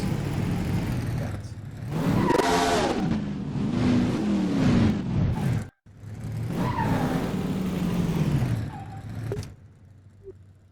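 A car engine revs up loudly, the pitch rising and falling through gears as it pulls away, then cuts out briefly before a second rev and drive-off that fades at the end.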